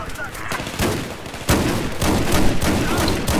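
Gunfire in Battlefield 4, loud repeated shots and bursts from several weapons layered over a constant roar of battle, close and dense throughout.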